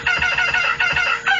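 Chickens being fed cluck loudly and close, a dense flock of repeated clucks and calls overlapping in quick bursts with no talking.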